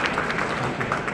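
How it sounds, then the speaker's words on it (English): Audience applause after a forensic investigations talk: a brief, dense wash of many hands clapping at once, steady and moderately loud for about a second. "So thanks for your time. Another clap."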